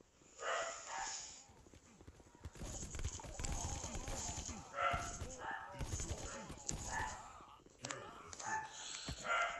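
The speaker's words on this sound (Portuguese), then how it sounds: "Esse cachorro do caralho vai latir logo agora" A dog barks in short intermittent bursts in the background, mixed with footsteps and other noises while someone talks over it.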